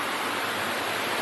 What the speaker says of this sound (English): This small waterfall